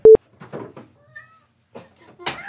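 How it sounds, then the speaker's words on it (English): A cat meows a few times in short, soft calls separated by quiet gaps, with a brief loud tone burst at the start. "we're going to have Pepper meowing"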